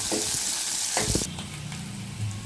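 Onions fry in a pan with a bright, steady sizzle, broken by a couple of stirring scrapes, then settling to a lower, softer frying hiss.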